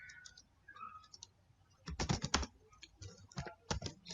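Commands are typed on a computer keyboard to run a C++ sorting program, with light scattered key taps followed by a close, quick burst of clicking keystrokes.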